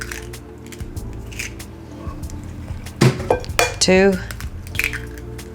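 Eggs cracked against a bowl and dropped into chocolate cake batter, a sharp crack then a wet plop with clinking dish sounds, close by, with a voice talking around it.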